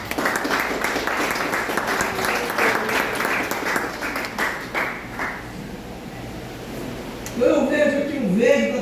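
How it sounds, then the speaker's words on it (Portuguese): A church congregation claps loudly and together, a full round of applause that fades away. Near the end a speaking voice and a ringing tone come in. "Você pode aplaudir o Senhor?"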